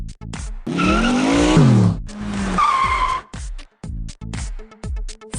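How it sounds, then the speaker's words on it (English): A fancy sports car in a puppet-theater video game skids with loud, sustained tire squeals, then revs hard and speeds off, ending in a few scattered game sound effects. "She jumped in a fancy sports car and sped off to the royal ball."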